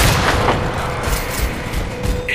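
Sustained, loud gunfire aimed at an incoming dropship in Crysis 2, a dense, continuous roar of rapid shots and booms with no break.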